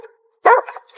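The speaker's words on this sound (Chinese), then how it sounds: "这不是普通狗叫，" A dog barking at a door: a faint, thin whine, then a single loud, sharp bark close by, trailing into a shorter follow-up yelp.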